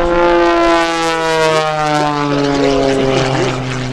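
A 350-horsepower aerobatic propeller airplane, the Lucas Oil Special flown at the 2017 New York Airshow, drones loudly and close, its engine holding a steady strong buzzing note with a slight waver in pitch throughout.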